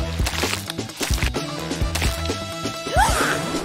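Paint-filled popping fidget toys being smashed, sharp whacks and crashes landing repeatedly in an uneven rhythm, close and loud, with squelchy bursts near the end.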